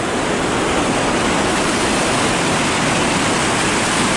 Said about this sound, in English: I'm gonna go over here and check out this flood water.